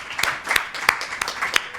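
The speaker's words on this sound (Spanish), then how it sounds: "bueno, vamos a darle un aplauso al presidente" Audience applause at a literary afternoon event in an athenaeum, greeting the association president: a short burst of scattered claps with distinct sharp hits, moderately loud throughout.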